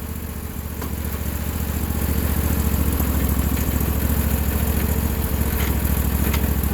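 A Sears loader's 4HP diesel engine idles on an old cold start with a steady, loud, close chug that rises slightly and then holds an even, rapid rhythm.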